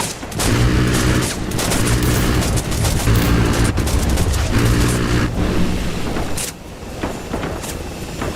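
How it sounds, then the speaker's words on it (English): A video-game minigun firing at a convoy of vehicles, a loud sustained roaring burst of rapid fire that eases slightly near the end. "Use the minigun and take them out."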